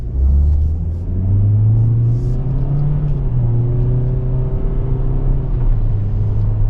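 A 2024 Toyota Corolla XSE Hatchback's engine hums steadily and rises in pitch as it accelerates, with a continuous low rumble of road noise throughout.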